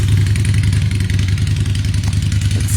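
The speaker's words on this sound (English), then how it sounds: "loud little motorcycle back there." A motorcycle engine drones steadily in the distance, loud and rumbling with a pulsing idle-like rhythm throughout.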